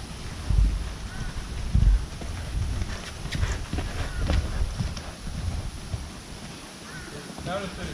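Hooves of a horse with a cross-firing gait clip-clop on the ground, with a few heavier thuds standing out early. Wind rumbles over the microphone throughout.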